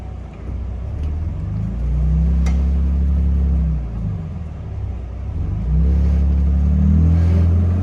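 A stuck Jeep Grand Cherokee off road: its engine revs in long, loud, steady surges with pitch swings, idling back down between pushes while the tire spins without grip.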